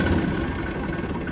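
A farm tractor engine idling in a steady low rumble, close and continuous, with no talking over it.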